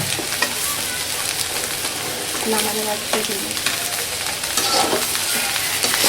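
Vegetable fried rice with onion greens being stirred and fried in a pan, giving a continuous sizzle broken by repeated scraping and tossing strokes of a spatula, close and fairly loud.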